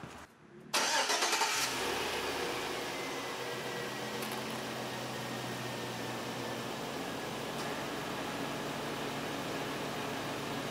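A 2004 Chevrolet Tahoe engine cranks briefly and catches during a transmission fluid and filter service, then settles into a steady, even idle heard up close for several seconds.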